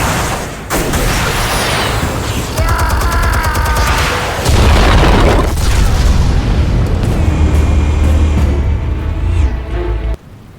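Explosives detonating in Batman: The Telltale Series, a loud sustained rumbling blast that swells after a sharp opening boom and holds for several seconds before cutting off abruptly, with no voices.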